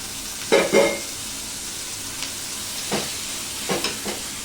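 Ginger-garlic paste and tomato sautéing in a pan, a low steady sizzle broken by a few louder scraping stirs, close and with no talk.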